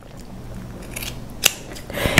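Scissors trimming knit fabric down at a neckline zipper area while sewing a two-piece knit set, giving a few quiet close snips with a sharper cut near the middle and another at the end.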